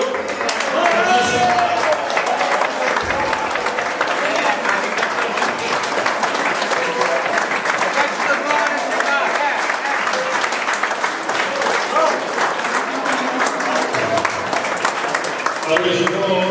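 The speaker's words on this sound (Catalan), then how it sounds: "nota aplaudiment a la gent de Sant Hilari" A crowd applauds the people of Sant Hilari with loud, dense clapping that carries on steadily for the whole stretch, along with some crowd noise.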